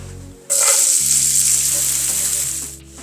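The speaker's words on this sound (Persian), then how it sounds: "یه مقدار روغن میزنم داخل تابه. حالا پیازها رو اضافه میکنم بهش." Onions hitting hot oil in a frying pan, bursting into a loud, steady sizzle after a brief quiet start and holding close and constant before easing off at the end.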